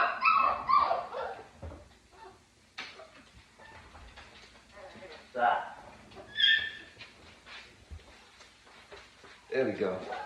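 A litter of puppies on a vet table barks, yips and whimpers in scattered bursts at close range, with a person talking over them throughout.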